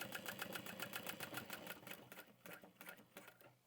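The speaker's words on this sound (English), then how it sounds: "I'm just doing 1 stitch over, coming down, back stitching," A sewing machine back stitches a tote bag, a rapid even mechanical chatter of needle strokes that slows and breaks into shorter runs, close and fairly quiet.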